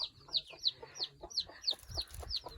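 Hens cluck repeatedly in a quick, regular series of short calls, close by in a coop, with soft rustling and low thumps beneath.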